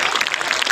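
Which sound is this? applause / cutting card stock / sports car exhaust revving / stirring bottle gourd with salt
applause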